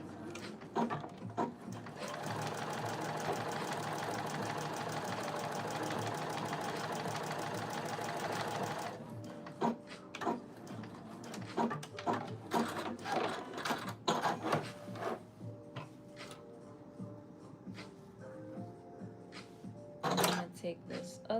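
A domestic sewing machine runs steadily for about nine seconds, stitching a garment seam along a marked stitch line, then stops; after that, scattered clicks and handling noises follow, with faint talk in the background.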